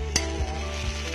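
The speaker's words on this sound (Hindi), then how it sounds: "बस अब हम ये डालेंगे मसाले" Spices go into a pan of chickpea curry (chole), giving a steady low sizzle with a sharp scrape of stirring near the start and soft stirring movements after, close up with no talking.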